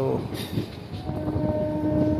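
A train arrives at the second platform of Tenali Junction, rumbling nearby with a steady rolling roar and a faint sustained tone, while a voice speaks under it.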